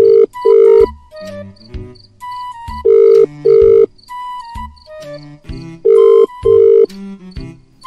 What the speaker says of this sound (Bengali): তুই ফোন রাখ, আমি ওকে ফোন করছি